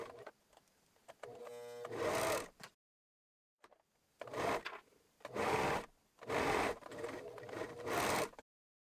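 A sewing machine overlocks or zigzags a pocket bag on sweatpants in several short running bursts with brief pauses between, close and fairly quiet, with no talking.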